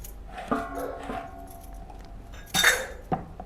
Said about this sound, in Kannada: ಸ್ವಲ್ಪ ಮೇಲೆ ಚಾಕು ತೊಗೊಂಡು ಕೊರೆದು ಬಿಡಿ